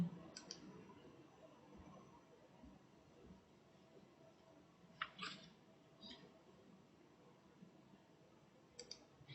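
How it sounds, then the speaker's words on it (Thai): Computer mouse clicks on a Sign In button in EndNote Web: a handful of faint, crisp clicks spread sparsely over a quiet background, with a small cluster near the middle. "คลิก ปุ่ม Sign In"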